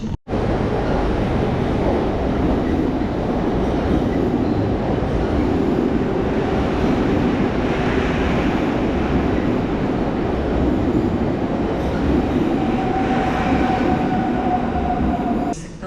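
The Chrobry train from Szczecin-Dąbie pulls into Warszawa Centralna station, a loud continuous rumble of wheels and cars in an enclosed underground hall with a thin wheel squeal near the end.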